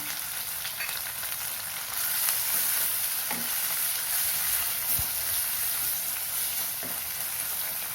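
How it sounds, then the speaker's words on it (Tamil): Onion and tomato sauté in a hot pan for ridge gourd dal koottu, a continuous close sizzle with a few soft clinks of a spoon, and no one speaking. "ஒரு நிமிஷம் வதங்கட்டும் வெங்காயம் தக்காளியெல்லாம் அதிக நேரம் வதங்கணும்னு அவசியம் இல்லை"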